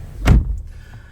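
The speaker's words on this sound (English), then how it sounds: "I'll shut the door." A single solid thunk as the door of a Volvo XC40 2.0 T4 R Design Pro is pulled shut from inside the car, close and loud, followed by quiet cabin ambience.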